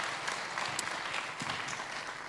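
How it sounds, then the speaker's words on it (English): Audience applause at a startup summit, a steady wash of many hands clapping at moderate distance, filling the whole short stretch without a break. "but please applause"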